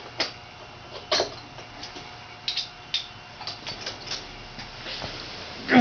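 Ratchet wrench clicks in short, irregular bursts of sharp ticks while removing the chaincase cover on a 1994 Polaris XLT snowmobile, close up and fairly quiet, with no talking.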